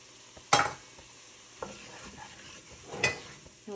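Onion, garlic and carrot cooking in three tablespoons of butter with flour sprinkled over, heard as a soft sizzle broken by a few sharp spoon scrapes and clanks against the pot.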